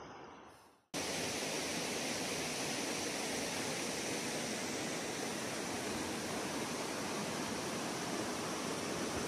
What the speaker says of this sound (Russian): Это река Хоста.